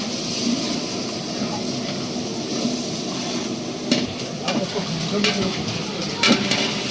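Onions frying with ginger garlic paste in a large pot for a 15 kg village chicken feast in Konkan, a steady loud sizzle with scraping stirs and a few sharp clanks near the end.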